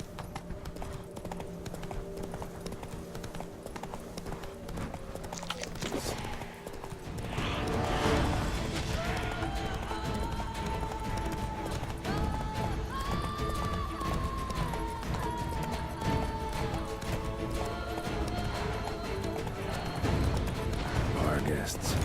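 Roach the horse gallops in The Witcher 3: Blood and Wine, a fast rhythmic clip-clop of hooves that carries on steadily, with occasional neighs, game music and voices talking over it.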